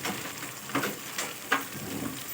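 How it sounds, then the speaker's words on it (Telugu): Chopped carrots, beans and curry leaves fry in a pan for vegetable biryani, a soft steady sizzle broken by a few brief scraping stirs. "వేసుకొని కొంచెం బాగా వేగనివ్వాలి ఇవి వెజిటేబుల్స్ అలా బాగా మగ్గాలి"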